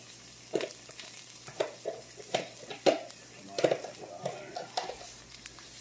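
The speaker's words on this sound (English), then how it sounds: "onions sauteing a bit" Onions and garlic sautéing in a pan for chicken with green beans, giving a faint sizzle under repeated spoon scrapes and clinks against the pan, close and fairly quiet with no talking.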